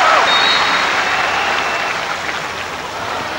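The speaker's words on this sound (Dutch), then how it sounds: "Terecht applaus voor Lewin." Applause from the crowd at the 1998 women's hockey World Cup final, Netherlands against Australia, a steady broadband wash of clapping that stays loud and fades slightly, with a whistle-like tone early on.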